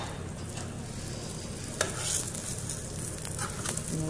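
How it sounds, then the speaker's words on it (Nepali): An egg fries in a pan, with a continuous close sizzle and crackle, a few sharp utensil taps and scrapes, and no talk. "अब लगभगै अन्डा पनि फ्राई भयो जस्तो छ"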